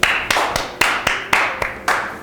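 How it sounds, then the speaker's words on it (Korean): Several loud hand claps nearby in a loose, uneven rhythm, each a crisp slap with a short ring, during a barista coffee tasting session. "박수 한번."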